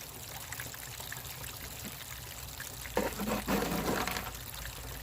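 Water running and pouring while rinsing concentrates through a sluice box during gold digging, a steady trickling stream that swells into a louder splashing pour about midway, close and continuous.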